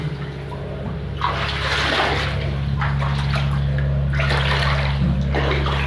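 Floodwater rushes and gurgles continuously inside a flooded house, a steady flowing wash with a low mechanical hum underneath.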